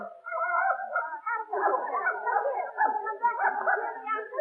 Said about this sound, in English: Madam, you can't bring that dog in here. Dogs aren't allowed.